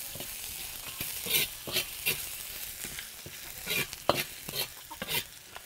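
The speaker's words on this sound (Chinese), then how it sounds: "花椒、那个香叶跟八角、姜蒜，再把干辣椒、那个辣椒节倒进去炒一下。" Sichuan peppercorns, bay leaves, star anise, ginger, garlic and dried chilies are stir-fried in a wok for spicy chicken, with a soft sizzle under repeated scraping stirs of the spatula in an irregular rhythm.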